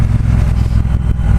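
A 2018 Triumph Bobber Black motorcycle engine holds a steady low rumble at about 2,600 rpm while riding, loud and close throughout with a constant throbbing pulse.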